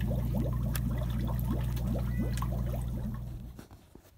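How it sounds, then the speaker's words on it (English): A small 20-watt aquarium bubbler churns water in a horse trough, giving a steady close-up gurgle with a constant hum underneath, then fading away near the end. "This here is our aquarium bubbler."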